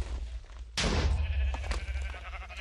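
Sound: sheep bleating in a video game Rube Goldberg machine

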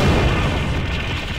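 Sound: shot and explosion in a video game

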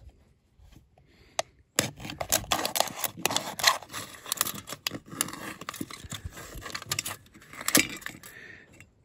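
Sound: cutting the bottom off an aluminum can

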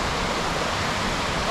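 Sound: large flow of river water

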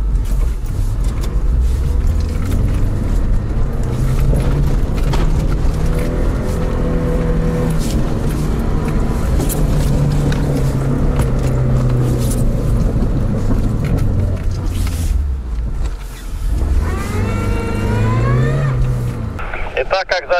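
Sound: Lada Niva 4x4 climbing a snowy hill in low gear

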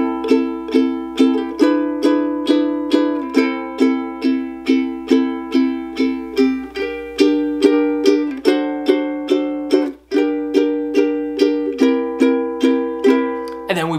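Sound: strummed chords of a bridge section

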